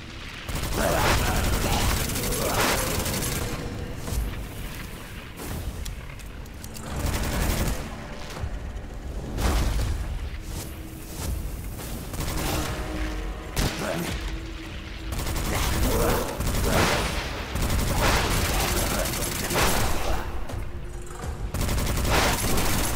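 Repeated bursts of gunfire in the dark fantasy shooter Witchfire, loud clustered shots and booming impacts recurring throughout with brief lulls, mechanical clatter between volleys and a voice talking intermittently underneath.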